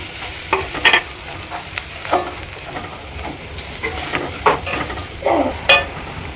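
Crushed ginger, garlic, chopped green chilli and spices frying in a pan for aloo chop filling, a close sizzle with irregular spoon scrapes and clatters of stirring, no voices.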